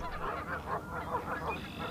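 A flock of geese honking over and over, loud and close, their calls overlapping in a steady noisy chorus.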